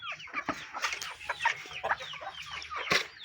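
Desi hens on a poultry farm cluck and squawk in a busy, overlapping chorus, with several sharper calls standing out close by and no talking.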